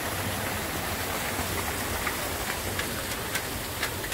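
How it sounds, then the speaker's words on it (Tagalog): Steady broadband rain falls outdoors near rocks on a river crossing, a continuous close hiss with occasional brighter drop ticks and no talk. "May ulan."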